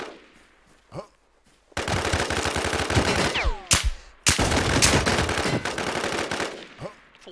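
Video game gunfire comes in long, loud bursts of rapid automatic shots, with a few single shots before and after and brief pauses between the heavy volleys.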